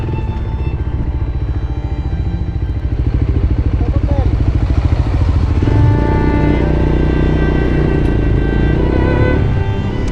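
A Voge 300 Rally motorcycle ridden off-road in snow on a volcano drones with a loud, close, steady engine note that rises slightly midway, with the rider talking over it.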